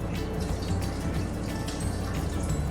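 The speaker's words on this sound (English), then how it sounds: "then just squeeze all the excess water out of there." Excess water squeezed out of tofu through cheesecloth, a close, steady trickle and patter of dripping liquid with small splashy bursts running continuously.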